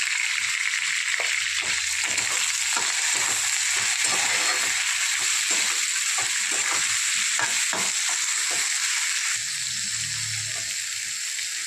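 Onion and tomato frying in a pan, a steady loud sizzle with faint stirring and scraping beneath, continuous throughout with a brief low rumble near the end.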